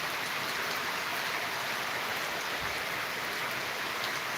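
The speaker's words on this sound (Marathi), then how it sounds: "पावणे सहा वाजले आणि अचानकच पाऊस चालू झालेला आहे" Sudden early-evening rain pours down steadily over farmland, a dense, even hiss of drops that stays loud and constant throughout with no voices.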